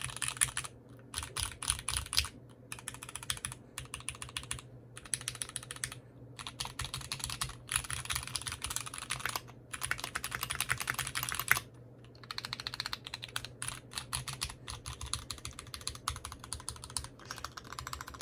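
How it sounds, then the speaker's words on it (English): Rapid clacking of keys on a Keychron Q1 V2 mechanical keyboard, typed in continuous bursts with short pauses between, close and fairly quiet. "let me type some keys"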